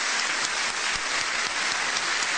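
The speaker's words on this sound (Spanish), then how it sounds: "Esto sí que merece un aplauso grande." Applause fills a congressional chamber, a dense, even roar of many hands clapping at moderate volume, sustained without a break for a couple of seconds.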